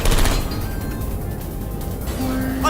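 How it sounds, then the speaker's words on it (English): Rapid turret gunfire from the Portal 2 game, a dense, loud burst of shots opening the moment and continuing as a steady crackling barrage, with a brief high tone near the end. "I heard gunfire!"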